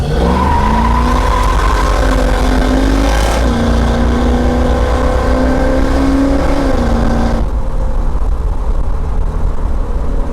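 A car fitted with a Boss Hog 10-inch, 2200-stall torque converter pulls away hard from a dead stop, its engine revving loudly and rising in pitch, with crisp gear shifts heard as sudden drops; close and continuous, no talking.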